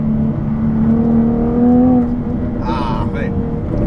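A Jaguar F-Type V6 S accelerating hard, its engine pulling with a rising, steady tone that swells midway, with a brief higher whine near the end.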